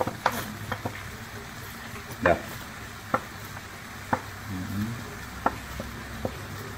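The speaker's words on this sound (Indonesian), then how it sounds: "kemudian diaduk lagi" Beef rolls frying in a pan with sweet soy sauce, a steady soft sizzle under periodic scraping stirs of a spatula, roughly one clear stroke each second, close by.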